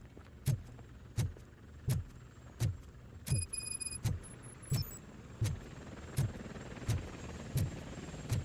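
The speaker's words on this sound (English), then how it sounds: "That's a TV helicopter." A TV news helicopter in the game RoboCop Rogue City, its rotor pulsing in steady, evenly spaced thumps roughly every half second, fairly close and continuous, with a brief electronic beeping partway through and no talk.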